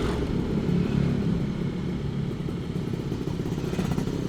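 A Suzuki Satria two-stroke motorcycle rides along a road at night, its engine a steady, close buzzing rumble that holds for the whole stretch, with wind noise and no one talking.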